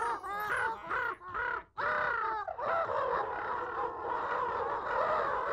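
A flock of crows caws loudly and almost without pause, with harsh overlapping calls that merge into a dense, continuous chorus.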